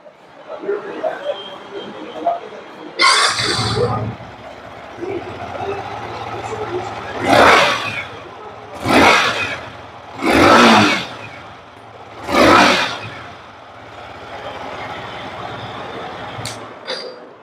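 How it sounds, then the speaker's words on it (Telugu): A 2024 Yamaha MT-15 motorcycle engine idles with a steady low rumble, broken by four loud revs that swell and fade in turn, with background chatter. "సో ఇది ఈ బైక్ యొక్క ఎగ్జాస్ట్ నోట్."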